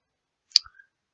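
A single crisp computer mouse click on the mark-in tool, close and isolated against silence, followed by a faint second tick.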